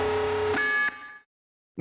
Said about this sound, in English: That's the spoiler that's the alarm.